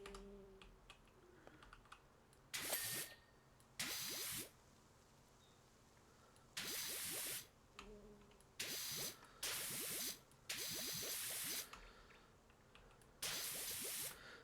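A pressure-washer nozzle blasting rust off metal in a video game comes in about seven hard hissing spray bursts of a second or so each, separated by quiet gaps with faint clicks and drips.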